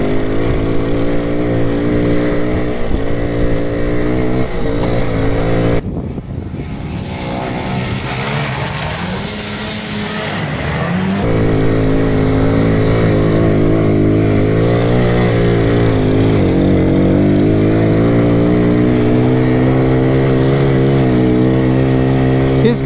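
Honda ATC 90 three-wheelers race, their small engines droning and revving continuously at close range, with a stretch of rougher, wind-blown noise in the middle.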